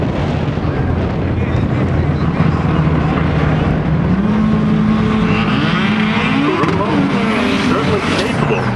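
An import drag racing car runs down the track at Englishtown, its loud engine drone climbing in pitch and then cutting off as the car gets out of shape, heard under a commentator's voice and heavy wind buffeting.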